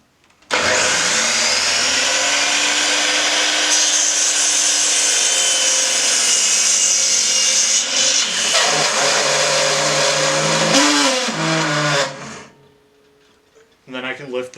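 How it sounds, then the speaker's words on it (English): A miter saw spins up with a loud, close whine and cuts through wood, the pitch wavering and dropping as the blade bites, then winding down into quiet, with a person speaking around it. "I'll start the machine and make my cut."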